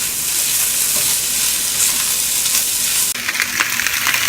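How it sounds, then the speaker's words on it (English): Tofu sizzles and fries steadily in a hot pan, a loud, close crackling hiss that continues throughout, briefly disturbed near the end as pieces are moved around. "That's tofu that's getting browned"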